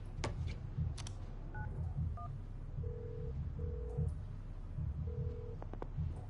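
Telephone keypad tones in a FIFA video game, a few short beeps followed by three steady dialing tones, heard over a low rumbling background with occasional clicks.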